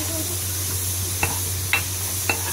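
Spice paste frying in oil for a crab, bottle gourd and potato curry, a continuous soft sizzle with three sharp spoon clicks against the pan as it is stirred, close up.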